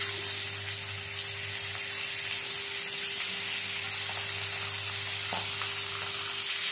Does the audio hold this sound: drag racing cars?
no